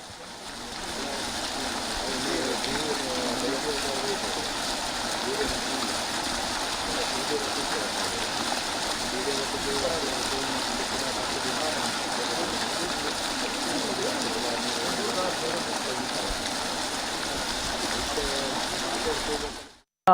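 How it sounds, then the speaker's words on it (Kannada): Drainage water rushes continuously into a river in Mangaluru, a dense even churn with no breaks, close and fairly loud. "ಇಲ್ಲಿಗೆ ಡ್ರೈನೇಜ್ ನೀರು ಸೇರ್ತಾ ಇದೆ."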